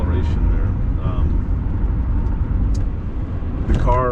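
A 1979 Mercedes-Benz 450 SEL 6.9 with a 6.9-liter engine accelerates with a steady, close, low engine drone, under brief bits of talk from people in the car.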